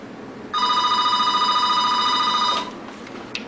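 A telephone rings in one loud, sustained electronic burst lasting about two seconds, then cuts off into a quiet room with a faint click afterward.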